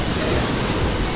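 Strong sea waves at a beach resort in Naic, Cavite, making a steady, loud roar of surf with a wind-like hiss throughout, no voices over it.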